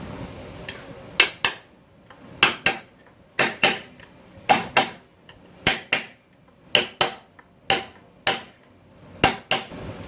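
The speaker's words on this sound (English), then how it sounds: "let me get a hammer and peck on that" A hammer taps on a part of a 1975 Chevrolet C20 engine in quick pairs of sharp, ringing metal strikes, repeated steadily and close by with no talking.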